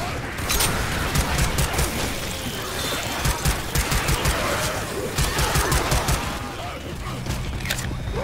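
Gunfire from the video game Left 4 Dead 2 cracks out in rapid, dense bursts, loud and close, over constant game noise as players shout to each other.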